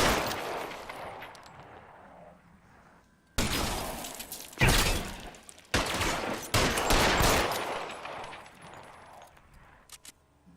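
Gunfire in the video game L.A. Noire: after a quiet stretch, a dense volley of loud, sharp shots crackles in rapid bursts for several seconds, then thins out to a few isolated pops near the end.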